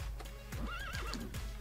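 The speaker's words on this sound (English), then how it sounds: "I'm gonna get him with a horse." A horse in the video game Party Hard gives a loud whinny over quick clip-clop hoofbeats, heard alone in a short burst.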